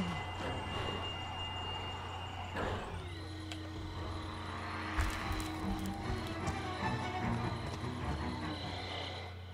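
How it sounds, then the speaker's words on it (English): Power-up sound in the Friday the 13th game on Xbox One: a steady electronic tone that slides downward around the middle, layered over constant game ambience and rumble, with a few brief clatters later on. "I think that noise you're hearing is my power up I use."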